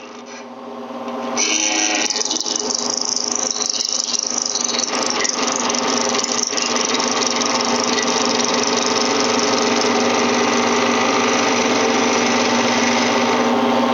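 A skew chisel shaves wood on a spinning lathe with a loud, continuous rasping hiss over a steady motor hum. It starts after a short quiet lead-in and runs unbroken.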